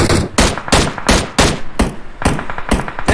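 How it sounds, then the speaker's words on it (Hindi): Rapid bursts of M16 rifle fire in a battle royale esports match, eight sharp loud shots in a steady rhythm, each a broadband crack with a brief tail, with no talk over them. "ORB की टीम दूर से M16 राइफल के शॉट देते हुए"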